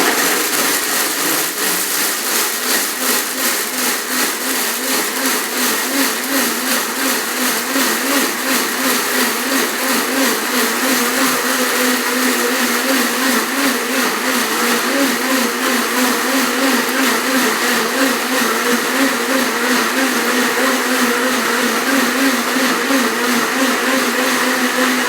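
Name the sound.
blender grinding whole wheat grains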